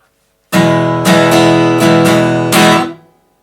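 A loud strummed guitar chord repeated in a steady rhythm, ending in a final strum that is cut short and muted into silence.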